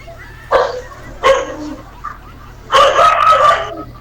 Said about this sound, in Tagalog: Aso ang tumahol.